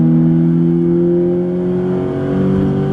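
A Scion FR-S accelerates while merging onto a highway, its engine note climbing steadily in pitch as a smooth, loud in-cabin drone with road noise underneath.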